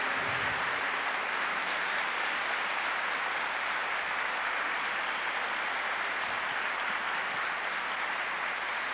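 A church congregation applauds during a Eucharist celebration, a steady, dense wash of clapping from many hands that fills the space evenly from start to finish.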